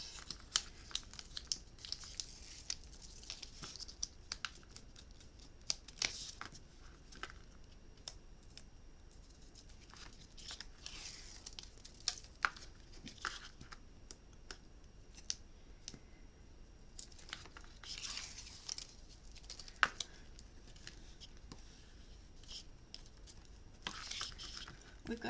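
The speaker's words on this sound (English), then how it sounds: "Let's take all of the tape off." Tape being peeled off a handmade fabric-covered mini album, heard as repeated crinkly tearing and crackling bursts, close and fairly quiet, with scattered taps and rustles between pulls.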